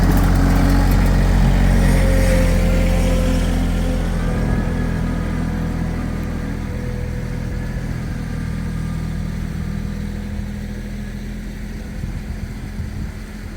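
A tractor engine runs outside a cabin in melting snow, a steady low chugging idle that fades slightly as it moves away, continuous throughout with no voices.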